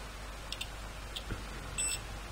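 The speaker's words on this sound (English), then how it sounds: "We should have a beep here." Short, faint high-pitched continuity beeps from a multimeter chirp intermittently over a quiet background hiss while testing a TDA2020 amplifier, with a slightly longer beep near the end.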